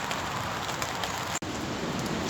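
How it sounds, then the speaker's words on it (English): Heavy Storm Dennis rain pattering steadily on a floodplain campsite, a dense continuous hiss close by with one brief cut near the end. "we are having a lot of rain"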